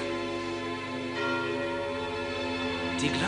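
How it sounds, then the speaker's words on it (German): A chapel bell rings out with a sustained, resonant tone, its hum lingering and swelling slightly, heard alone without voices. "Die Glocke der Kapelle."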